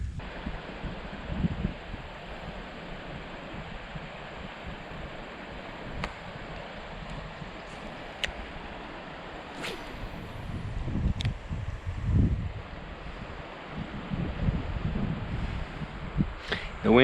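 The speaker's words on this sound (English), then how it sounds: "The wind's kind of blowing me in there." Steady wind gusting at the narrows of the Harpeth River, rumbling and buffeting the microphone in swelling waves, with a few faint clicks and no talk.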